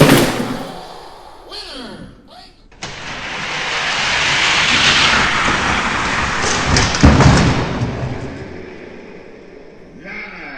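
Hot Wheels diecast toy cars roll down a long plastic drag-racing track, building into a sustained rushing whir that swells and fades, preceded by clattering handling sounds and a thump at the start.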